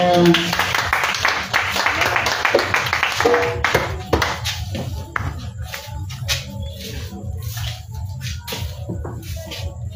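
Congregation at an Easter prayer vigil clapping in acclamation of the Lord, loud dense applause at first that thins into scattered, rhythmic claps, with voices mingling throughout.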